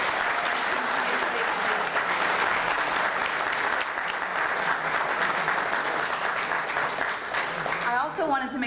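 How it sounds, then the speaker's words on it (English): A room full of people applauds at a town council swearing-in ceremony, continuous dense clapping for several seconds before a voice starts talking over the final moments. "please, let's give them another round of applause"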